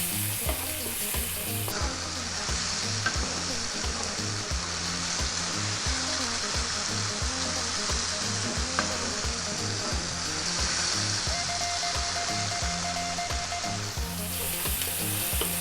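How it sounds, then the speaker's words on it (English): Spices fry over high heat in a pan, a loud, steady sizzle with rhythmic scraping strokes as they are stirred constantly. "Keep it moving and stir it often now because we've got our spices in there."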